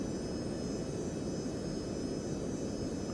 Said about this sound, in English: I don't want to burn too much fuel with both engines running.